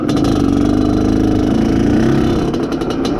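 An Izh Planeta Sport motorcycle engine idles steadily during break-in, a loud, close, continuous low throbbing drone with a fast even pulse and no voices.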